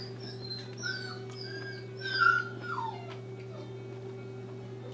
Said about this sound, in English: have you got a puppy somewhere hidden? Yeah, it's the new puppy.